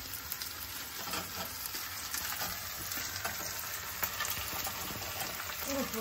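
Fried chili fish pieces being stir-fried in sauce, a steady close sizzle with soft scraping stirs throughout, no voices.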